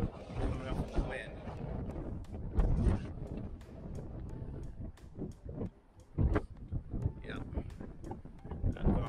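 Strong wind gusting at Donner Pass near Donner Lake on a snowy hike, blowing snow about and buffeting the microphone with rough low rumbling and bursts, while a person speaks briefly.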